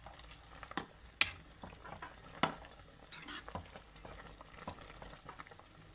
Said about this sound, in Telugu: ఇలా ఉడుకుతుంది చూడండి